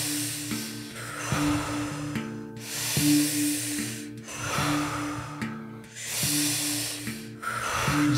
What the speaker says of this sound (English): Just finding your own rhythm and those big breaths